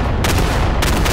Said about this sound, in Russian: А это как петарды, знаете, Корсар 1000